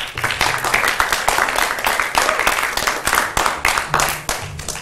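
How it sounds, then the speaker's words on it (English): Audience applause at a tech conference talk, a loud crowd of clapping hands with dense rapid claps rolling continuously for several seconds. "So let's get a big round of applause."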